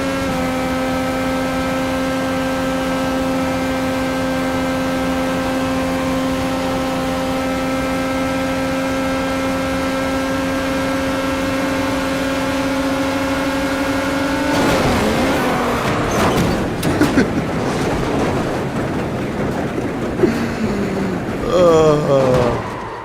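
Race car engine in iRacing holding a steady, loud harmonic drone, then breaking into rougher, busier engine and tire noise as it accelerates, with a voice talking over it.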